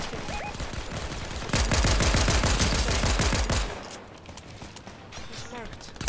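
Rapid automatic gunfire rattles in an online shooter game during a duo endgame fight, a dense burst of shots lasting about two seconds, with players talking over the game sounds.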